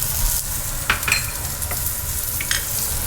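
Green bell peppers seasoned with kosher salt sautéing in a pan, a steady sizzle with a few sharp stirring scrapes, close and alone without voices.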